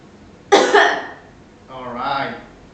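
A patient splinting the chest after a radical mastectomy and axillary node resection gives one strong cough, followed by a second softer, breathier cough or throat clearing, close up and without talk.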